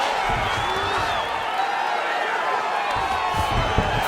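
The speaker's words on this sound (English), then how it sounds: "big pop from the crowd as they get back to their feet after a pretty scintillating grappling battle there on the ground" An arena crowd cheers at a UFC fight between Khamzat Chimaev and Kevin Holland in the video game UFC 5, a continuous mid-level roar with scattered whistles and shouts.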